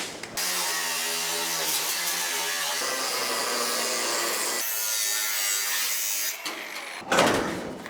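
Power saw blade slicing straight through tacked-in body metal of a 1936 Terraplane Coupe during a build, a loud continuous buzzing whine that runs steadily for several seconds, pauses briefly, then resumes nearby.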